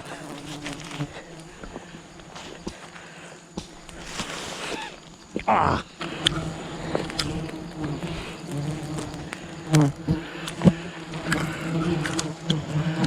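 A swarm of bees buzzes around a wild hive being harvested, a dense, droning hum close to the recorder with sharp rustles and knocks cutting through, and brief scraps of voice amid the constant buzzing.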